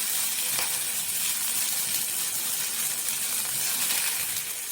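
Inch of ginger and four garlic cloves sautéing in a pan for channa masala, a steady close hissing sizzle with faint crackles throughout, no talk.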